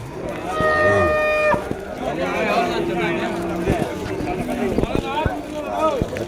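Cows, including a cow with its calf, at a cattle market in Vaniyambadi: a loud, drawn-out moo close by, then further lowing and animal shuffling while people talk throughout.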